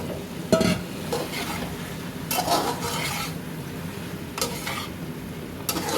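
Chicken and bell pepper fry in a pan with a constant sizzle, broken by scraping stirs and rasping rubs against the pan at irregular moments. No voice is heard.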